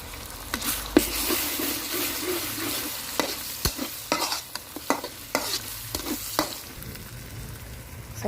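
Eggs fry over seasoning in a wok for fried rice, with a steady sizzle and a run of sharp spatula scrapes and knocks as they are stirred.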